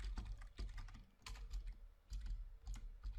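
Fingers type code on a computer keyboard, a quiet, close run of quick key clicks in uneven bursts with short pauses between them.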